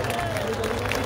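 Audience applause at a live concert in Durgapur, a brief dense roar of many hands clapping with crowd noise, loud and close.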